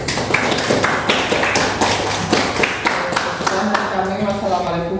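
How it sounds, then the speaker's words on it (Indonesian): A classroom audience claps for a presenting group, producing a burst of sharp, uneven applause that tapers off, with voices in the background. "beri aplaus untuk kelompok satu"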